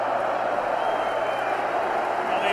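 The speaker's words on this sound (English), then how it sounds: "Tremendous crowd here at 20th of May Stadium." A huge boxing crowd at the 20th of May Stadium during a heavyweight title fight, a steady, dense roar of many voices and scattered clapping filling the air evenly and loudly throughout.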